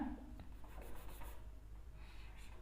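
Chalk or marker writing on a board during a class 12 maths lesson on matrices, faint scratchy strokes in a quiet room with no talking.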